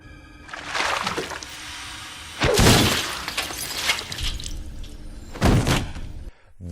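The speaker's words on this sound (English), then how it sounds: "then he smashes it onto a corner of a table or whatever, and it shatters into pieces" A frozen head from a Friday the 13th film shatters into pieces against a table corner, giving sharp, loud smashing bursts of breaking and scattering fragments, several crashes spread over a few seconds.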